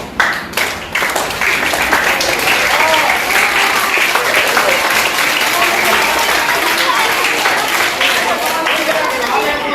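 A crowd at a children's magic show claps steadily for nearly ten seconds, a loud, continuous wash of hands with some chatter mixed in underneath.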